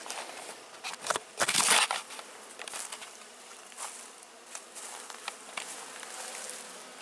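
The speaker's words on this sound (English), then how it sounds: "there's bees coming and going in the trap box" Bees buzz close by around a bee trap box in a busy, fluctuating drone, individual insects swelling louder as they pass, with a few crackling bumps mixed in.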